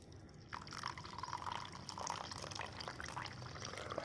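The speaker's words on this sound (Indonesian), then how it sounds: "Lalu masukkan air panas." Hot water is poured onto squeezed lemon or lime juice in a cup for a home cold remedy, a soft continuous liquid trickle and fill, faint and close, with no talk.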